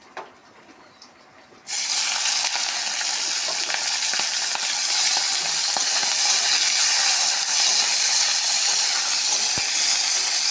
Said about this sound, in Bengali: কড়াই গরম হয়ে গেছে, পরিমাণ মতন তেল দিয়ে আমি চিংড়ি মাছগুলো ভেজে নেব